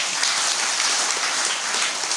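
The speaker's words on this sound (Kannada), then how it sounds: "ಚಪ್ಪಾಳೆ ಬಾಡ್ಲಿ" An audience at a community de-addiction camp claps together, giving a dense, steady patter of applause that holds an even level for the whole short stretch.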